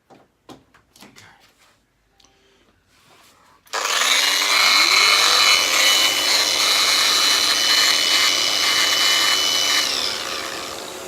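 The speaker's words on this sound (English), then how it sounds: "sounds like a grinder" A Festool RAS 115 rotary sander switches on after a few scattered clicks and handling knocks, spinning up to a loud, steady high-pitched whine that holds for about six seconds before starting to wind down.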